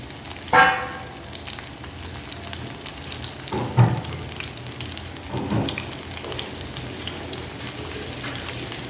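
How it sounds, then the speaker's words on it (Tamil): Cauliflower 65 frying in a pan makes a continuous rain-like sizzle with a few sharper clatters from stirring, including one near the start and another midway. It is close and even, with no talking. "இன்னும் கொஞ்சம் ஃப்ரை ஆச்சுன்னா அப்பப்போ திருப்பி விட்டுக்கிட்டே இருக்கணும் நண்பா, இல்லைன்னா அடி பிடிச்சிடும்"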